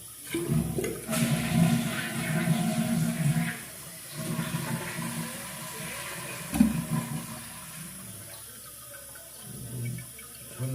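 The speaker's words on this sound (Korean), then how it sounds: "물 한번 내려놓습니다." A household toilet flushes after its flush lever has been replaced, with rushing, gurgling water and then refilling sounds close by, and a faint voice briefly in the background.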